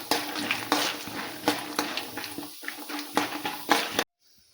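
Chana dal and peanuts fry in oil in a pan while being stirred, with a steady sizzle broken by regular scraping strokes of the spoon, ending abruptly in silence.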